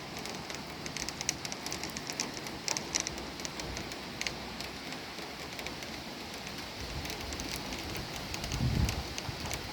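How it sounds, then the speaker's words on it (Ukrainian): A heavy rain shower comes down outdoors in a steady dense hiss of drops pattering on surfaces, constant and fairly close, with a low rumble near the end. "Пішла злива, зараз покажу."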